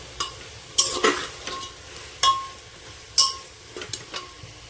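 Potato and pumpkin curry is stirred and sautéed in a pan, with a soft sizzle broken by several sharp scrapes and clinks of the spoon against the pan, close and irregular, without talk.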